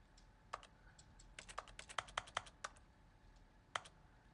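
Typewriter keys in The Stanley Parable clack in an uneven burst of about a dozen crisp, close strikes, then fall quiet before one last isolated keystroke.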